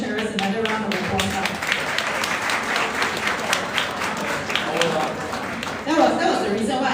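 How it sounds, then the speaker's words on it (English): Audience at a weight-management program event clapping for two testimonial speakers, a dense, steady round of applause that runs for several seconds before voices begin to break through near the end. "Give both our testimonial sharers another round of applause."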